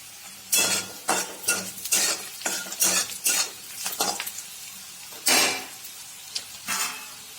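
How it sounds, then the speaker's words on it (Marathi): Onion broken by hand and tipped into hot oil in a pan for vermicelli upma, sizzling steadily while a spoon scrapes and clinks in repeated bursts of stirring, close and fairly loud, with no talking. "हा कांदा हाताने फोडून तेलामध्ये घालते"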